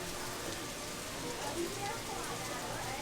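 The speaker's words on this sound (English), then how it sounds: "Rain was pelting you the whole entire time." Heavy rain pelting down at Busch Gardens Williamsburg amusement park during a beer festival, a dense, steady hiss filling the scene for the full length, with a faint voice or two mixed in under the downpour.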